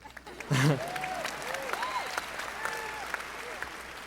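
A crowd at a 2011 high school graduation breaks into applause that carries on steadily for a few seconds while a voice talks over the clapping.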